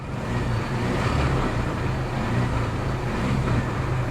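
A Jeep idles in neutral with its transmission chattering, a steady, dense low rumble that holds close and loud for the whole stretch without any voices.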